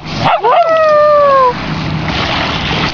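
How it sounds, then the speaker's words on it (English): A dog at a beach lets out a loud, drawn-out howling bark, rising then sliding down, followed by quieter background noise. "There's the dog."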